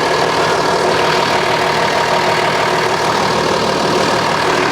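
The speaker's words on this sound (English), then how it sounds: "it's a good idea just to check that the winch rope is going on evenly" A winch winds its rope onto the drum with a steady, loud mechanical drone that holds constant and unbroken, with no voices.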